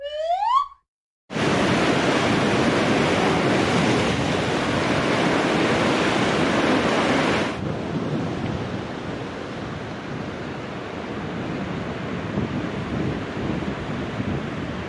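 Loud, continuous ocean surf on the Galician Atlantic coast: a steady, broad wash of breaking waves that eases slightly partway through, with a brief chirp before it starts.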